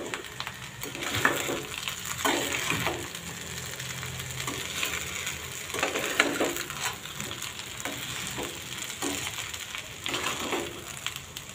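A soaked sabudana khichdi mixture being stirred and sautéed in a pan, with a constant crackling sizzle and regular scraping, shuffling strokes of the spoon.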